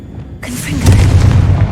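A Confringo blasting spell detonates in Hogwarts Legacy, a sudden loud boom followed by a heavy rumbling burst with crackling debris, close and alone.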